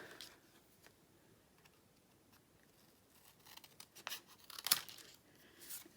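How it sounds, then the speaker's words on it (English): Scissors trim designer series paper, producing faint, close snips and light rustling crinkles that grow slightly louder and busier toward the end. "So I'm going to take these pieces and just trim them off."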